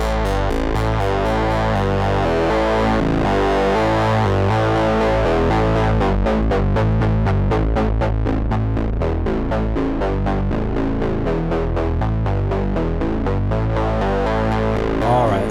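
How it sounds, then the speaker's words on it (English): A Sequential Pro 3 synth bass patch with feedback and analog distortion plays loud and continuous: a gritty, throbbing bass line with steady repeated notes that pulse faster partway through, and no talking over it. "now I'll add some analog distortion."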